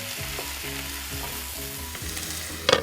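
Filipino pinakbet ingredients, diced tomatoes mixed with vegetables, cooking in a pan: a steady, close sizzle runs throughout, with a brief burst of clatter near the end.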